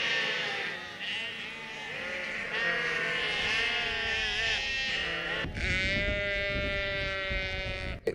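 Sheep and fat lambs bleat over and over inside a big farm shed, many overlapping calls close by and loud, filling the space continuously with no talking.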